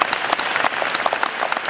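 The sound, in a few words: audience applause for Mike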